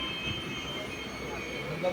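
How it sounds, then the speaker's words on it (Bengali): A train rolls into Durgapur station with a continuous low rumble and faint wheel squeal, steady and close, with some muffled background voices. "এসে ট্রেনটা রুকলো"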